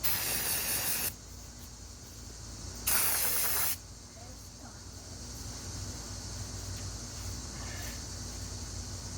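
Two loud hissing aerosol sprays, one about a second long and another shortly after, over a steady background hum, while cleaning grease from steering parts on a 1978 Ford F-150.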